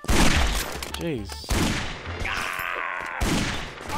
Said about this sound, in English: God, quit throwing grenades at me